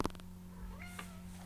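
A house cat gives a short, close meow, wanting to be let outside, in a quiet indoor room with a steady low hum behind it.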